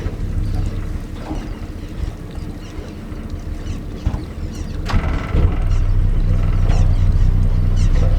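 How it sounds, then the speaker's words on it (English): Steady wind buffeting a small fishing boat at sea, a continuous loud rumble with water slaps and the hum of a motor holding position. "Wind is pushing us."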